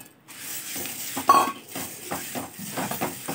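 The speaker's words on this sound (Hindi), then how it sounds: "हमें उड़द की दाल को भी लो फ्लेम पे ही भूनना है।" Urad dal being dry-roasted in a pan over a low flame for Malvani vade bhajani, heard as scraping and clinking of a spatula against the pan with one sharper metallic knock, close up and steady, without talk.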